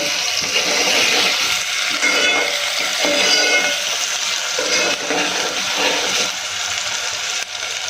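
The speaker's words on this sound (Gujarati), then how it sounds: "આને સારી રીતે આપણે તેલમાં ફ્રાય થવા દઈશું" Onion frying in hot oil for a roasted eggplant bharta, a steady broadband sizzle with small bubbling crackles running throughout, fairly loud and close, with no talking.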